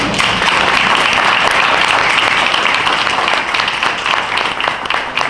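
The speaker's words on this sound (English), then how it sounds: "Please join me in giving them a great big round of applause." An audience at a Board of Education meeting breaks into loud, dense applause that holds steady for several seconds.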